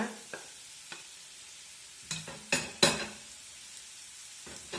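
Onions tipped into a pan of frying potatoes, with a quiet background sizzle broken by several sharp utensil scrapes and clinks against the pan, some loud and close, without speech.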